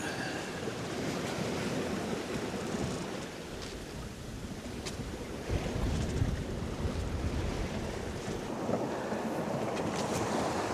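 Contessa 26 sailboat under sail crossing the Irish Sea, with constant wind rushing over the microphone, water washing against the hull and waves surging, a broad steady roar that swells in places.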